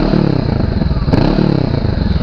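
A Honda CB500X motorcycle engine is revved twice, close by, each blip rising in pitch then settling back to a throbbing idle with a pulsing exhaust beat.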